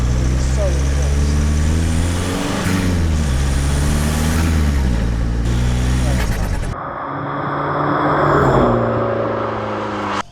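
A Skoda Fabia vRS with a 1.9 TDI diesel engine pulls hard into boost, its loud, close engine note rising and falling through the revs before easing off, with brief talk near the end.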